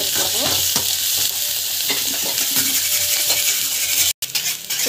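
Dal and turmeric powder sizzle steadily in hot oil for lemon rice, with repeated spoon stirring scraping through the pan and a brief cut near the end; no talking.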